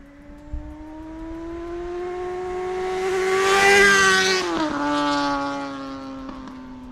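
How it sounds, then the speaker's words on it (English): A loud Honda CBR600RR sport motorcycle engine with an aftermarket exhaust drones and climbs in pitch, peaking into a harsh roar before easing back, with a raspy, throaty exhaust tone throughout. "Now this bike has an aftermarket exhaust. and it is loud, very loud."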